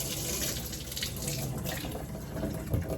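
Tap water runs in a steady, close hiss into a sink as a dryer lint screen is rinsed under the stream, with no talking.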